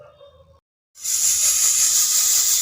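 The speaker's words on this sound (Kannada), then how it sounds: "ಕುಕ್ಕರು 1 ಸಾರಿ ಕೂಗ್ತಾಯಿದೆ, ಸಾಕು." A pressure cooker boiling moong dal lets off steam after a brief quiet pause, a loud, steady hissing whistle that rushes on without letting up.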